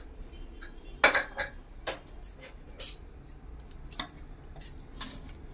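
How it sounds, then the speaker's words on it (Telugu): A pressure cooker lid is opened on freshly cooked tomato dal, giving a few sharp metallic clinks and clatters followed by softer taps, close by in a quiet kitchen. "ఇప్పుడైతే మూత తీసి చూసుకుంటున్నా"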